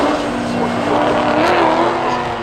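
A Rally 2 car at the Knockhill McRae Rally Challenge roars past at speed while drifting, with its engine loud and close and a strained, steady howl that swells slightly mid-pass.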